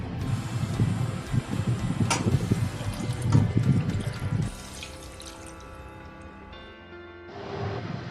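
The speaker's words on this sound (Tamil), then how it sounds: "இந்த ஸ்டேஜில் நம்ம தண்ணி ஆட் பண்ணலாம்" Water pours and splashes into a pan of sautéed Andhra-style chicken curry for several seconds, close and fairly quiet, then fades to softer liquid sounds and a faint hum.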